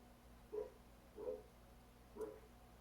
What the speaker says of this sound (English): the dogs are the neighbors, not mine,